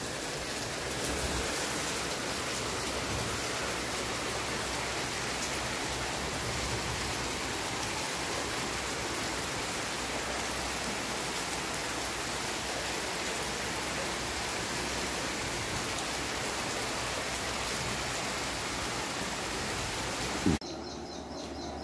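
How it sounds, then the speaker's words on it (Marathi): Steady rain falls over green countryside near a roadside dhaba in Kolhapur, a dense, even hiss of drops lasting about twenty seconds before a brief knock and a sudden drop-off at the end. "पाऊस सुरुवात झाली."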